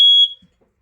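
A single loud, shrill electronic beep from a smoke detector, held briefly and then cut off, followed by quiet handling noise.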